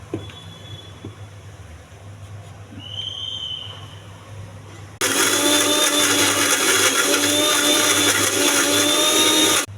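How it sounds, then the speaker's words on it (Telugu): A mixer grinder blends coconut chutney with salt, coconut pieces and a little water, switching on abruptly halfway through and running as a loud, steady whirring roar after a quiet room stretch. "మూత పెట్టి మిక్సీ వేసేయాలి"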